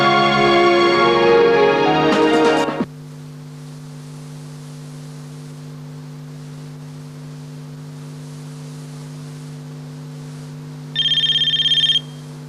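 A telephone rings in a Pakistani drama scene: after a burst of music, a steady low tone holds, then a short bright ring sounds near the end.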